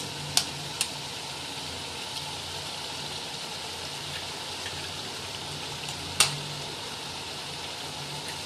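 Three eggs fry with vegetables in a hot pan for chicken vegetable rice, giving a steady close sizzle broken by a few sharp clinks from stirring, with no talking.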